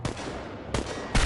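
Gunfire in the game Chernobylite: a few separate heavy shots, one at the start, one partway through and a louder one at the end, with a rumbling backdrop between them.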